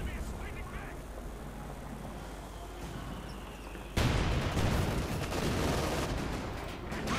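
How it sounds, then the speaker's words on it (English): A Panther tank fires in a Company of Heroes 2 battle. A low ambient rumble gives way to a sudden loud cannon blast, followed by sustained booming and crackling combat noise, with commentary talking over it. "Panther firing away"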